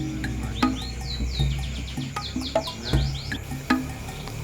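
Birdsong from a white-rumped shama (murai batu) breeding setup: repeated sweeping chirps and whistles over a steady insect-like drone, with scattered clicks and knocks from the enclosure.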